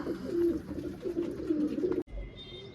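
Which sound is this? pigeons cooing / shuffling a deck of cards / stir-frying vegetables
pigeons cooing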